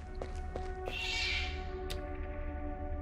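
A short, faint cat screech rises once over a low, steady ambient hum in the horror video game Viviette, followed by a few soft clicks.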